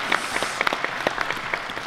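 A theatre audience applauds a performer at a dada-themed matinee, a steady, fairly loud wash of many hands clapping with scattered sharper claps, heard alone.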